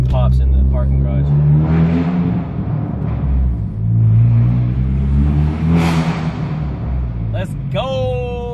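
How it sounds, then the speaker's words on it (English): Revving engine of a 10th gen Honda Civic Si echoes through a parking garage, a loud sustained drone swelling and easing with a couple of sharp bursts near the end, while people talk over it. "Let's see if we can get some pops in the parking garage."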